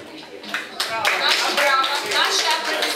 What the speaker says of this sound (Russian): Наши аплодисменты